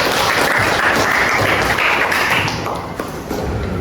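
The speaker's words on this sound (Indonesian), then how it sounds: "Tepuk tangan untuk Habib" An audience at a teacher-training session in Bandung claps for Habib, a close, loud wash of rapid overlapping claps that stays steady and then eases slightly toward the end.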